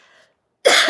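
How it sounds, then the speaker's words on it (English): A single sharp, loud cough bursts out after a faint murmur and a brief silence. "that is not COVID cough"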